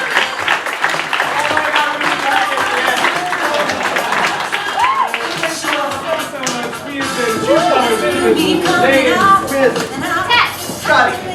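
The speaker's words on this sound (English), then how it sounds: "once again, a special round of applause to Alex Bazinovich, our" Audience round of applause at a festival event, claps and cheering mingling with loud overlapping voices, excited shouts and chatter close by throughout.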